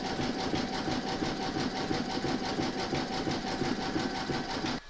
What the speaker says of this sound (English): you can now stitch round number 23, and that's going to complete the satin stitching around the border.